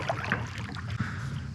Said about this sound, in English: it's going to be a really good peaceful paddle